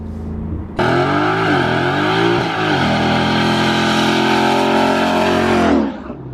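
A Mustang GT V8 with an aftermarket exhaust starts up abruptly and revs, with a deep harmonic growl that rises and dips. It then holds a steady, loud drone close by before cutting off, and no one speaks over it.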